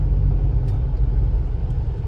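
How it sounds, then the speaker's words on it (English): A Mini Cooper S with a widebody build runs along the road, its exhaust giving a steady, fairly quiet low rumble from the cabin with no talk. "The exhaust on this thing sounds so good."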